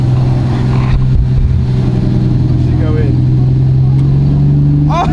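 A Lamborghini Murcielago engine idles loud and close with a steady droning rumble, and a voice talks over it near the start.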